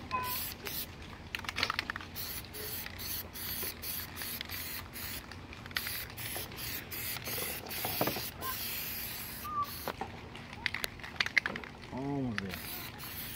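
Aerosol Plasti Dip sprayed in bursts onto the wheels of a 2018 Ford Explorer, a steady close hiss with short pauses between passes, with a brief voice near the end.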